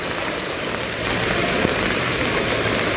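Heavy rain pours steadily onto flooded roads in the seaside town of Digha, a dense, constant hiss of drops hitting water and pavement, close and loud throughout without a break.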